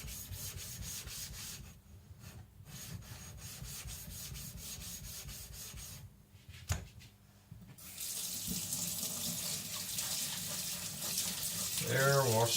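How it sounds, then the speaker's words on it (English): A diamond sharpening plate is rinsed under a running tap, a steady close hiss of water with rubbing and scrubbing, briefly interrupted, then a louder gush of flow toward the end. "washing my Asuma plate so it's dirt free"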